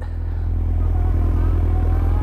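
A 1000cc motorcycle engine idles close by with a steady, low rumbling pulse and light mechanical clatter, loud and continuous, with no one speaking.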